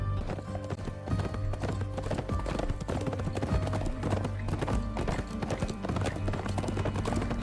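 Horse hooves clip-clopping in a TV show's opening scene, a loud steady rhythmic trot with music and occasional neighing layered in.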